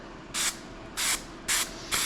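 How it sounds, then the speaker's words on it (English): Spray adhesive hisses onto a 3D printed mold in four short, loud bursts of about a quarter second each, evenly spaced with brief quiet gaps between them, for laying up a carbon fiber car part. "I'm just going to spray a lot more"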